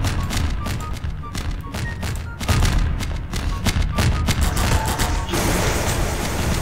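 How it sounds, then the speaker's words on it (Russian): Dense, continuous gunfire crackles in rapid bursts with thuds underneath, loud and sustained like a game battle in Garry's Mod. "Я слышу, как стреляют."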